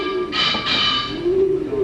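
Pigeons coo in soft, repeated throaty calls during a comedy stage act, close and clear with little else around them.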